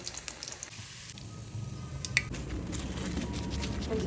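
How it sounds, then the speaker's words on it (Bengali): Cauliflower pakoras fry in hot oil with a bubbling sizzle that builds and grows louder, with a single light utensil clink along the way; no talking. "শীতে ফুলকপির পাকোড়া তো আমি একটু ভেজে নিলাম"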